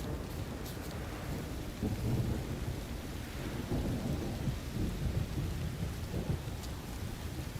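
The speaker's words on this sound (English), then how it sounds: "Let it rain." Steady rain pours down while low thunder rumbles and rolls underneath in The Witcher 3: Wild Hunt, a continuous stormy wash with no voices.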